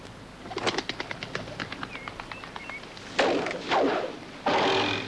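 Pigeon released by hand and flying off, a rapid series of wing claps followed by louder whooshing flaps as it takes off, close and alone in an outdoor scene.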